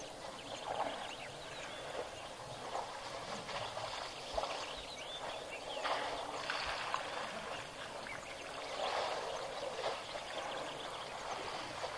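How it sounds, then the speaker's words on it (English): An elephant splashes in a waterhole, bursts of sloshing and pouring water at irregular intervals over a continuous outdoor wash, moderately distant and fairly faint. "You can hear it splashing, and you can see the ripples on the left-hand side."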